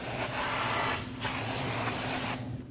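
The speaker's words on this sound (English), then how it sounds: "Spray the outer braking surface with brake parts cleaner just to degrease it." Brake parts cleaner is sprayed onto the braking surface of a rotor from a 2020s Toyota Corolla during a front brake job, a loud aerosol hiss in two close bursts with a short pause between them.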